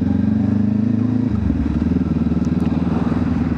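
Kawasaki Ninja 500 motorcycle engine running steadily and close by, a continuous low throbbing hum with a slight shift in pitch partway through, with no talk over it.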